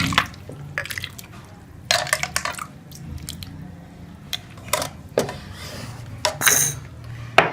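Watermelon sharbat is poured into a glass in a home kitchen, with liquid splashing and trickling and glassware and utensils clinking in short bursts. The sounds are close and moderately loud, and no one speaks over them.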